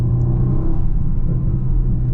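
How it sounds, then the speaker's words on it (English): Steady low engine rumble of a 2024 Mercedes-AMG GLE 63 S twin-turbo V8 accelerating, with a deep exhaust drone and faint irregular exhaust pops throughout. "Get little pops out the exhaust too."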